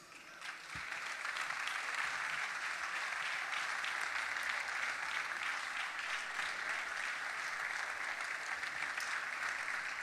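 Audience applause for the drummer at a festival concert by a singer and a jazz trio, a sustained, even wash of clapping from a sizeable crowd, slightly distant, after one soft thump at the start.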